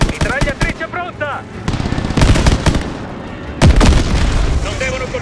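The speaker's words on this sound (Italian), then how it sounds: "Mitragliatrice pronta!" Machine gun bursts in Call of Duty: Vanguard amid a chaotic World War II battle, loud booming explosions and heavy gunfire layered with shouted voices and sustained rumble.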